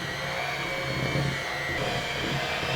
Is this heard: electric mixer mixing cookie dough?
yes